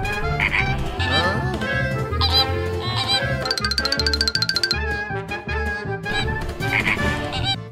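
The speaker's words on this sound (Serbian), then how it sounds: "Ovo je flamingo." An animated flamingo call sounds as a series of honking, bird-like cries over a busy, tuneful background, loud and close throughout.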